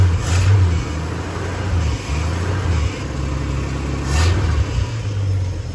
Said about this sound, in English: That old 306 cylinder, good running old engine.